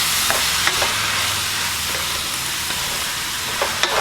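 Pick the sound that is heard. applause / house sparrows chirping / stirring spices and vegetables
stirring spices and vegetables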